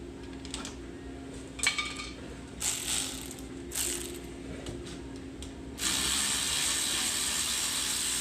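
A ratchet wrench clicks in short, uneven bursts while working on the rear brakes of a 2005 Toyota Camry, followed by a steadier mechanical whir near the end.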